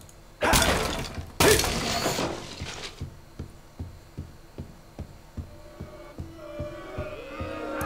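Objects smashing in Fable Anniversary, two loud sharp breaking crashes early on, followed by a series of soft evenly spaced thuds and a faint hum.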